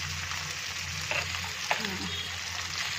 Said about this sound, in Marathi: आता आपण परत एकदा या बाजूनं परत एकदा एक दोन मिनटासाठी मासा भाजून घेऊयात